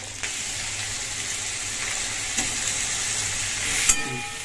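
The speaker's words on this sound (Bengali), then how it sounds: "তো এই তেলের মধ্যে আমি এবারে কেটে রাখা আলুগুলো দিয়ে দেবো।" Cut potatoes sizzle and crackle as they fry in fish oil, with a constant hot hiss broken by a few clinks of stirring.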